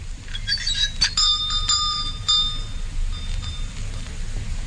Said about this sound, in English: Oh, it's a bell pull.